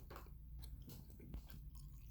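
Close, soft chewing of gourmet English-style wine gummies, with wet, sticky mouth clicks and squelches repeating irregularly throughout, no talking.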